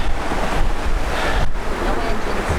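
A sailboat under sail with no engine running, with waves washing against the hull and wind buffeting the microphone in a loud, continuous, close rush.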